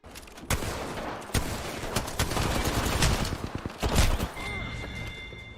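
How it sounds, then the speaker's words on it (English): Rapid bursts of gunfire from the video game Apex Legends crackle densely and continuously, layered with punchy shots and booms during an esports tournament match. "And opening the scope, nice bullets by Quasimodo, making the kill"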